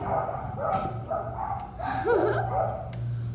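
Dogs bark at a dog daycare in downtown Manhattan, several short barks and yips at moderate distance, with a steady low city hum and faint street ambience underneath.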